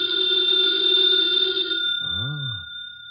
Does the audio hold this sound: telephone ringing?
yes